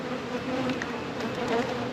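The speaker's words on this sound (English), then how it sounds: "there with all these bees and they're trying to sting you all over" Honeybees swarm around an opened hive during an early spring deep inspection, making a dense, continuous buzzing drone that surrounds the listener, with individual bees passing close by.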